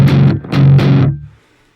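An 8-string electric guitar played through an amplifier at full gain gives two heavy distorted chugs, then one sustained crunchy chord that cuts off and leaves a short, faint amp hiss.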